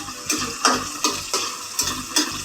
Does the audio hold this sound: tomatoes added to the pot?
yes